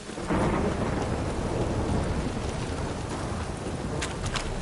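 Steady, heavy rain pours throughout a storm scene in The Witcher video game, with deep rolling thunder rumbling underneath at a moderate, constant level.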